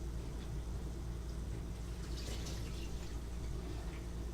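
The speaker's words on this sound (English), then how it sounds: "Now we pour it into our strainer." Liquid poured from a pot of crawfish fried rice into a kitchen strainer, a steady broadband splashing rush that runs unbroken for the whole stretch with no voices.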